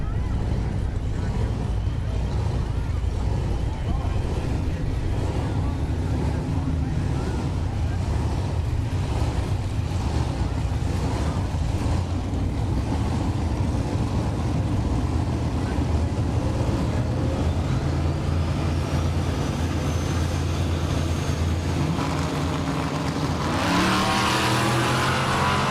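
Drag racing cars at a dragstrip, a first-generation Camaro and a two-wheel-drive K5, roar loudly and steadily through the run, with dense engine noise throughout and a rising rev near the end.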